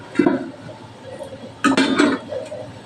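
Metal lid set onto a cooking pot of kathal chingri, clinking sharply once near the start and again in a couple of quick rattling contacts later, close and distinct.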